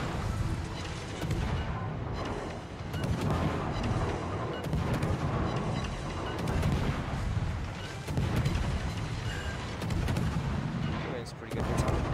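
Naval gunfire from warship battles in World of Warships, a steady series of heavy booming artillery salvos and rumbling blasts running throughout, with a voice talking over parts of it.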